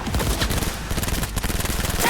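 Rapid automatic gunfire from a gun in Cyberpunk 2077, fired without its muzzle brake, rattling in a dense continuous burst of close, loud shots for about two seconds.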